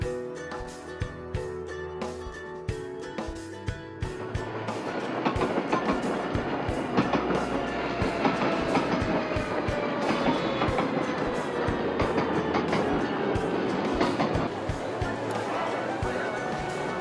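A train in the game Garry's Mod rolls steadily along the rails with a continuous rumbling roar and rhythmic clicking, long metallic squeals sliding over it; no voices.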